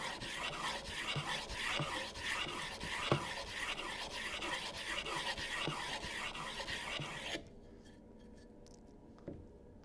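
A stone is rubbed back and forth along a long-track speed skate blade, producing a steady rhythmic rasping scrape that runs for most of the clip and then drops away to faint quiet handling sounds.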